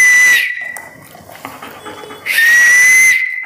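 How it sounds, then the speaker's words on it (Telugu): A person whistles two sustained high, steady notes, loud and close, with a quieter gap between them filled by faint rustling. "ఈలా అర్థమైందా?"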